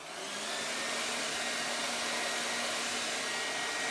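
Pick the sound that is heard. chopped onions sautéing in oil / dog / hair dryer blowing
hair dryer blowing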